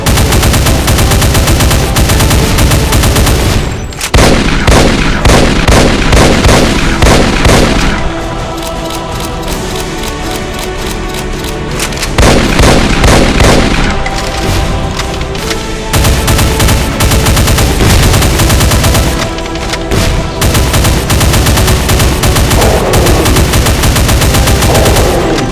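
Rapid bursts of gunfire from a Zombieman variant in a Doom mod, loud dense volleys of multiple shots with brief pauses between clusters, continuous and close.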